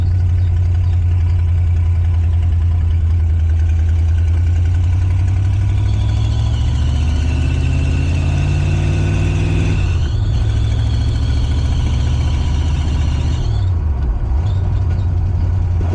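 A Ford Ranger with a swapped-in 5.0 engine runs steadily close by, its deep rumbling idle loud throughout. Revs briefly rise and settle around the middle, then the engine dips again near the end.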